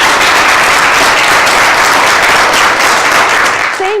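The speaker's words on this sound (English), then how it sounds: "give a big round of applause to Mary Hawkins." Loud, continuous applause fills the room from a morning audience at an institute talk, a thick wash of many hands clapping steadily throughout without any voices.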